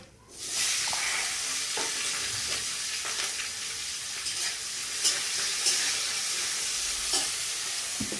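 Whole cumin seeds, dried red chilies and green chilies sizzle steadily in hot oil as a tempering for a small-fish chachchari with eggplant and onion. A faint clink of stirring sounds now and then over the continuous hiss.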